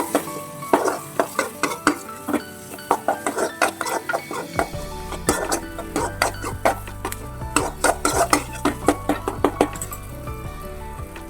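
A utensil stirs mashed karunaikilangu (yam) masiyal with tamarind water in a metal pan, scraping and clinking in a steady, busy rhythm. The sound is close and continuous, with a low hum joining partway through.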